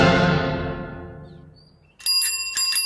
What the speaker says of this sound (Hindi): पियून के साइकिल की घंटी।